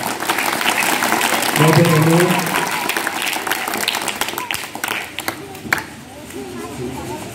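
An audience at a sweater distribution charity event bursts into loud applause that swells and then fades, with a speaker's voice heard over the clapping.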